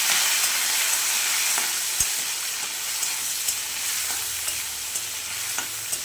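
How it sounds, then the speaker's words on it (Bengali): Large pieces of cut shrimp sizzle and crackle steadily in hot oil, a continuous bright frying hiss with occasional sharp pops, close and alone with no talk. "তেল গরম হয়ে গেছে, দিয়ে দিচ্ছি চিংড়ি মাছ।"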